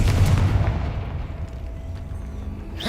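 A Confringo fire spell bursts in Hogwarts Legacy with a loud, low booming blast at the start that rolls off into a fading rumble, with no talk over it.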